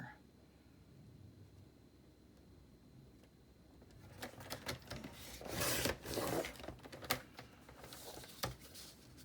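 A paper trimmer slices through 4-inch-wide notebook paper for a traveler's notebook, giving a few loud, close rasping cuts and scrapes in the second half after a quiet start.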